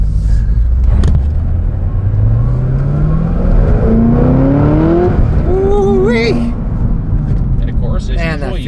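Chevrolet Corvette C6 ZR1 engine under acceleration while driving, a deep rumble rising steadily in pitch through a gear before easing off, loud and close from inside the car, with someone talking over it.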